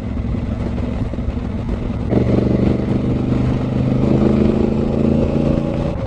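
A Honda CRF1000L Africa Twin motorcycle hums along under steady riding, a continuous loud engine drone with wind rush that steps up in pitch partway through as the rider accelerates.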